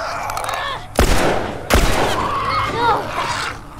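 Two sharp, loud gunshots from The Last of Us video game crack out about a second apart, each with a short ringing tail, over a steady background of game ambience and faint tonal sound effects.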